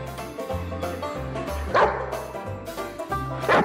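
A fully grown Rottweiler barks at a tiny kitten, giving a series of deep, loud barks in an uneven rhythm with a few sharper yelps among them.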